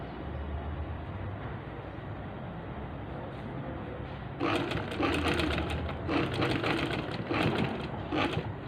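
Sewing machine stitching a ladies' shirt, a steady close mechanical whirr at first, then louder rattling runs in bursts with brief pauses, alone without talk.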